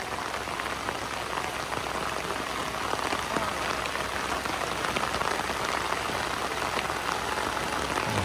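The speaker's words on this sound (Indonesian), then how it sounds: "Hujan lebat." Heavy rain pours steadily in a dense, even hiss, loud and close, drumming on surfaces throughout with no break; a faint voice may sit beneath it.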